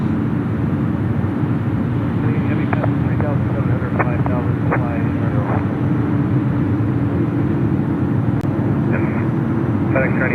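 A FedEx airplane departs from Memphis International Airport, a loud, steady engine roar filling the scene throughout, with radio chatter breaking in over the noise.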